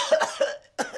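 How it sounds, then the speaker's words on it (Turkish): A single person coughs several times in short, close bursts, with a brief pause before a final cough. "Ne yutturup öksürüyorsun ya?"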